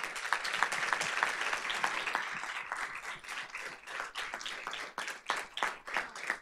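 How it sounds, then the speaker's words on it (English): An audience at a school board of trustees meeting claps for honored students, a fairly quiet but steady patter of many hands that thins and turns more uneven toward the end. "Let's give them a big round of applause"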